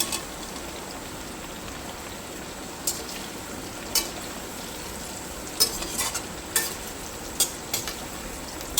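Stuffed eggplant and potatoes frying in a pan, a steady soft sizzle with several sharp scraping stirs of a spoon toward the end, close and alone with no talk.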